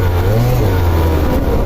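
An old motorbike engine revs close by, a loud, steady low drone that sags slightly in pitch as it holds.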